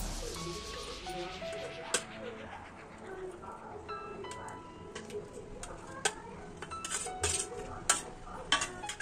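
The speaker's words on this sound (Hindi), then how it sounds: "तो इसे हम काट कर तैयार कर लेते हैं।" Knife cutting steamed chana dal fara on a board, scattered soft chops and clinks of utensils with faint kitchen clatter and some background bird calls.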